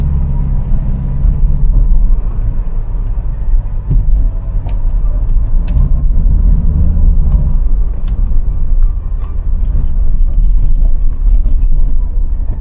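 Mk3 Ford Cortina driving at night through the Lakes, a steady low engine rumble and road drone holding close and even throughout with no talk.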